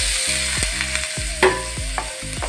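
Roasted long beans go into a hot pan with chili and turmeric and are stirred, giving a loud steady sizzle with repeated scraping stirs and a low rhythmic hum underneath.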